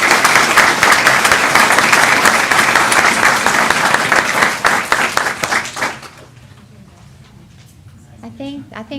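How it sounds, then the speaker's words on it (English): A big round of applause from the audience at a school board meeting: loud, steady clapping for about six seconds, then it drops off and quiet talking follows. "So let's give them a big round of applause"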